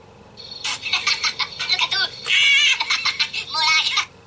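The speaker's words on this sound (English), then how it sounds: "Ignore the phone. That's someone just texting me a message." A mobile phone chimes with a text message alert during a card model kit build, a bright burst of repeated electronic tones that rise and fall across several seconds, loud and close.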